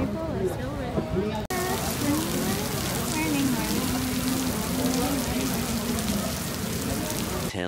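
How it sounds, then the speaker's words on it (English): Rain falling outdoors in Lapu-Lapu City, Cebu, a continuous dense hiss of drops on surfaces after a brief break near the start, with a voice speaking underneath. "It's raining and people are still ready."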